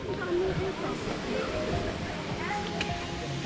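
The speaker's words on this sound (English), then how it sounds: "So you can see over here the waterfall, very close to the waterfall." Water rushes steadily at Erfelek Tatlica Waterfalls in Sinop, a broad close roar with some splashing, heard up near the falls with voices mixed in underneath.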